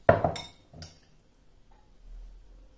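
Cutlery and dishes clink while peppers and onions are plated beside a marinated pork chop, a few sharp close taps and scrapes followed by near silence.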